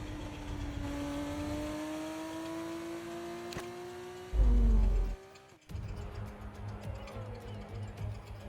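Formula 2 race cars at the Yas Marina circuit in Abu Dhabi, in the F1 25 video game, whine with a steadily rising engine pitch. After a short thump and pause, a second engine drone builds again.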